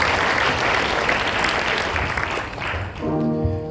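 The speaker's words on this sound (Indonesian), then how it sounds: "Kita berikan tepuk tangan lagi." Congregation clapping together at a Christmas church service, a dense, loud burst of applause that fades near the end as a voice begins to speak.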